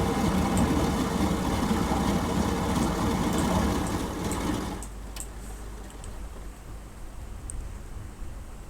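Engines of a Latécoère 631 flying boat in Microsoft Flight Simulator run with a loud steady drone, then cut out abruptly at about five seconds, leaving a quieter hum and faint clicks.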